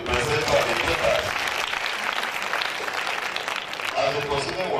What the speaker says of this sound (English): another round of applause for the presenter of the papers